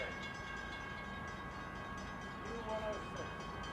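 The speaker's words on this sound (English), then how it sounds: "That's a frickin' coal train." A CSX coal train rolls through Folkston as a steady, distant rumble of railcars, with faint voices talking over it.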